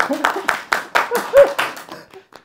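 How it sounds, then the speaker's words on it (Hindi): Podcast guests clap for a singer in a studio, a run of about nine distinct, fairly close handclaps in an uneven rhythm, with voices and a laugh mixed in as the claps thin out. "ये तालियां उनके लिए बिल्कुल तालियां तालियां भाई तालियां"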